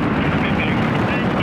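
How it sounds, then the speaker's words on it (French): Soyuz rocket engines and boosters igniting at liftoff, a loud, dense, continuous roar with rumbling low end and no breaks, heavy and close throughout. "Mise à feu des EAP et décollage du lanceur Soyouz"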